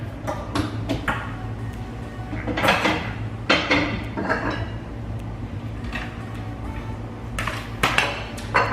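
Plates and cutlery are set out in a home kitchen while food bakes in the oven, with scattered clinks and clatters of dishes and silverware over a low steady hum.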